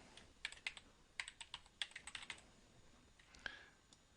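Someone taps out a short phrase on a computer keyboard with a quick, uneven run of soft clicks, quiet and close, then pauses and hits one more key.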